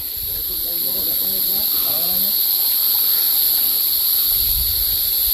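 A small mountain stream flows along a trek trail, a steady broad hiss of running water that stays loud and continuous throughout, with faint voices briefly underneath.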